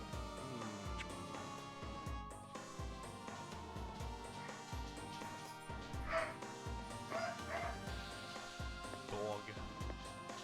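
A dog barks and yips repeatedly in a video game, steady rhythmic woofs running throughout alongside game sounds and a voice talking over them.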